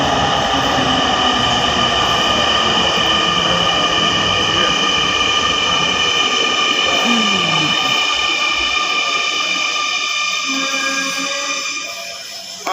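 A Dhaka metro rail train runs past at a station, a loud sustained roar with a whining electric tone that holds steady and then fades away toward the end, heard without talking.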